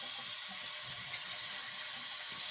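Tap water runs steadily and alone at close range while soap residue is rinsed off a Gillette Silver Blue double-edge safety razor.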